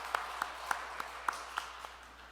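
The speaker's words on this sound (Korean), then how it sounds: "박수로 한번 격려해 주실까요?" Sparse, evenly spaced handclaps from a church congregation at a Sunday service, about seven in a row, faint and slightly distant in a quiet room.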